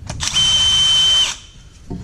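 A power drill with a quarter-inch ratchet extension in its chuck spins loose already-cracked bolts on an FG Ford Falcon during a clutch job, one steady high whine lasting about a second, close and loud, then winding down.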